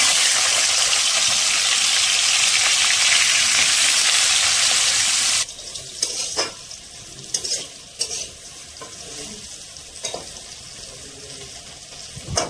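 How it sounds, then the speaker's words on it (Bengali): Green plantain coated in salt and turmeric frying in hot oil in a wok, a loud hissing sizzle for several seconds that drops suddenly to softer bubbling with occasional stirring clinks. "কড়াইয়ের মধ্যে গরম তেল দিয়ে নুন হলুদ মাখানো কাঁচকলাটি ভালো করে ভেজে"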